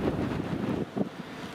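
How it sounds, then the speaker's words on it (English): Strong gusting wind at Edinburgh Airport buffets the microphone in a continuous low rumble that rises and dips with the gusts. "So the wind is currently gusting 30."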